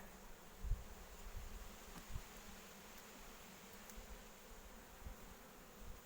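Honeybees buzz in a steady, quiet drone from an opened hive during an inspection before feeding, with a few soft knocks of frames and handling.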